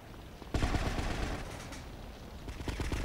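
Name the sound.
gunfire in the video game GTA Vice City Stories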